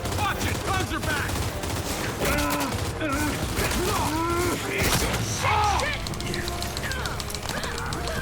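Enemy guns firing in the video game Gears 5, a dense, steady stream of gunfire with creature-like shrieks and battle noise mixed in, continuous and loud.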